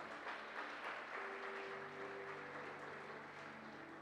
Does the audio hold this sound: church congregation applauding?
yes